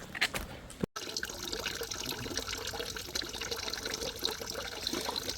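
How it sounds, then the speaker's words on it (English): Clear spring water trickling slowly out of a trail spring at a shelter water source, a steady close splashing flow after a brief sharp cut at the start. "Good source. It's a little bit slow, but awesome clear water coming out of the spring."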